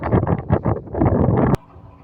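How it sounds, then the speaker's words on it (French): Gusty outdoor wind buffets the microphone in loud low rumbling bursts that cut off abruptly, leaving faint background hiss. "Désolé pour le son, mais il y a du vent qui se met à souffler."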